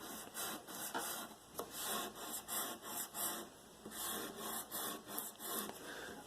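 Rhythmic back-and-forth rubbing on the fret edges of a Vangoa acoustic electric guitar neck, a quiet raspy scraping repeated in quick strokes, close and without talk.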